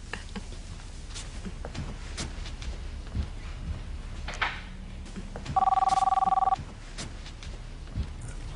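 A telephone rings indoors in a soap opera scene, one sustained electronic trill about a second long, standing out clearly above a quiet room with faint movement and background hiss.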